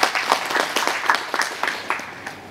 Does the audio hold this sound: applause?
yes